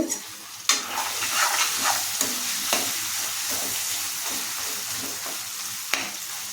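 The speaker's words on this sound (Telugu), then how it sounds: "చూడండి, కొంచెం చింతపండు వేస్తున్నానండి." Tamarind being added to tomato and ridge gourd frying in a pan for chutney, heard as a soft sizzle with irregular scraping stirs and a few sharp knocks of the spoon against the pan, close but fairly quiet.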